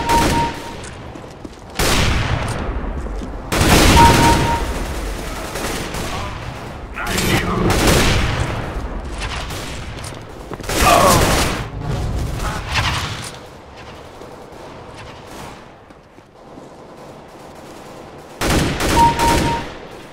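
Gunfire from a CS:GO team deathmatch round, with loud bursts of shots and booming blasts arriving in clusters, separated by quieter gaps and background game noise, with voices faintly present at times.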